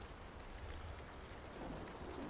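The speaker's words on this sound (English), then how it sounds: "It is raining outside." Steady rain falling outdoors, a dense even patter on surfaces that holds at a constant moderate level with no voices over it.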